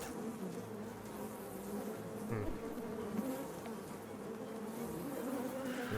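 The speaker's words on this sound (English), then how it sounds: "there's music, but it's being overshadowed by the buzzing flies" Large, aggressive giant flies buzz in the Shadows Over Loathing video game, a steady dense drone filling the whole stretch with faint game music beneath.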